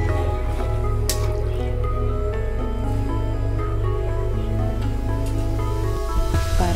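A pot of tamarind sardine fish curry bubbles on the stove, steady close-up simmering and sputtering with small pops and drips over a constant low hum, no voices.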